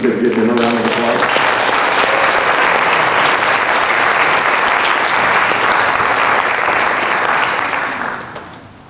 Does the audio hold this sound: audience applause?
yes